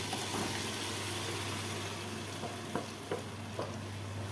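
Tomatoes, chili and harissa in a pan give a soft constant sizzle under a low hum, broken by a few light scraping knocks of stirring near the end.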